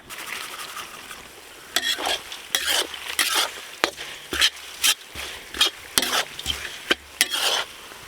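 Curry leaves, dried red chillies and grated coconut sizzle in hot oil as a tempering. Loud, close frying hiss is broken by about a dozen sharp scraping stirs in an uneven rhythm.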